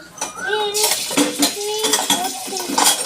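Chilli being stirred and fried in a metal pan with a ladle, giving repeated clinking utensil scrapes and clatter over a light sizzle, close and fairly loud, with no talking.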